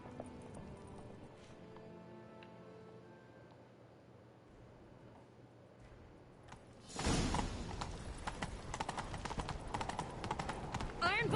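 Horse hooves gallop in the Witcher 3: Wild Hunt game during a chase, a quiet stretch with soft voices before loud rapid clip-clopping bursts in near the midpoint and continues driving to the end.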